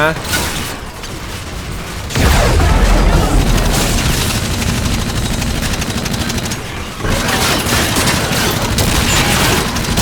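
Gunfire rattles in the shooter game Call of Duty: Infinite Warfare, a loud, unbroken stream of rapid shots and booming impacts running for most of ten seconds, with a brief dip midway and voices mixed into the dense game noise.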